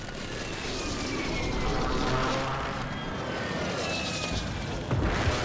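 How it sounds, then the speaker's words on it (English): Aircraft roaring overhead during an airstrike in the Call of Duty video game, a loud continuous engine drone that swells and fades, ending in a sudden blast. "Airstrike inbound."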